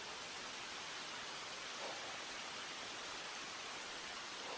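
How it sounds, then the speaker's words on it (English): Heavy rain pours down in a forest on a backpacking trail, a dense, even hiss of falling water with no other sounds. "It's pouring down rain."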